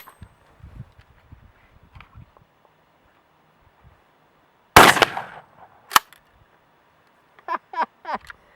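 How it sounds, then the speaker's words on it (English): A shotgun fires a single cut shell at 50 yards outdoors, one loud sharp blast followed by a brief rolling echo, then a few fainter thuds and scattered ringing taps later on. "I've got another cut shell loaded into my shotgun here"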